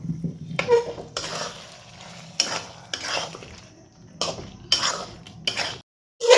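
Mint chicken being stir-fried in a pan with a utensil, repeated scraping and clattering strokes in bursts against the pan over a light sizzle, close and fairly loud with brief pauses between strokes.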